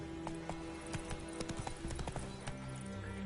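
Hooves of the horse Roach running in The Witcher 3, a quick steady clip-clop gallop with rapid repeated thuds, fairly close under faint game ambience.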